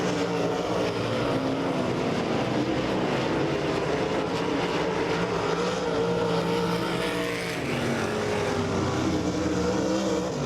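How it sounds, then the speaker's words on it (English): Midwest Lightning sprint cars racing around the Lake Ozark Speedway during a heat race: a loud, continuous engine roar with shifting pitch as the cars pass through the turns, throughout the whole clip. "We're green flag racing with the Power Eye Midwest Lightning Sprints rolling into turns number 1 and 2."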